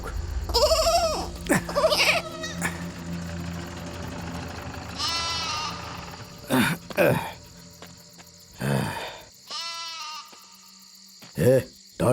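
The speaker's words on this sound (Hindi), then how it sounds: "ये बकरी यहाँ कहाँ से आ गई रे?" Goats bleat repeatedly at night in a rural village, several loud quavering calls spaced through the clip over a steady chirp of insects, with low talk and vehicle noise early on.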